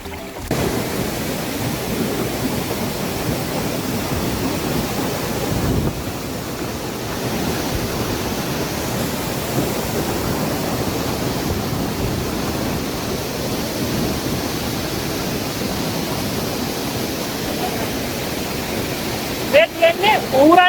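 Waterfall in Sinharaja forest, Sri Lanka, a loud, steady rush of falling water filling the whole clip, with a brief dip partway and a few sharp knocks near the end.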